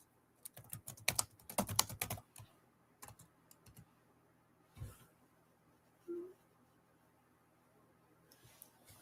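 Bursts of computer keyboard typing, quick clustered keystrokes loudest early on, then sparser taps and a few isolated clicks in a quiet room.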